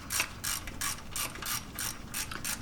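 A ratchet wrench loosens the 14 mm starter mount bolts on a Jeep Cherokee or Wrangler 4.0 liter, a close, rhythmic series of about eight loud ratcheting strokes in steady succession.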